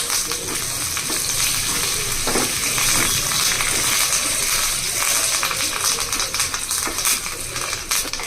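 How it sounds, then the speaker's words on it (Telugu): Cumin and curry leaves sizzle and crackle in hot oil nearby with a steady frying hiss and occasional stirring clicks, with no talking. "ఇదిగోండి పోపు అయితే చక్కగా వేగిపోయింది"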